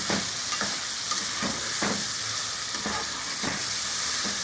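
Garlic ginger paste frying with tomatoes in a karahi for restaurant-style chicken karahi: a steady close sizzle with recurring scraping stir strokes about once a second, no talk.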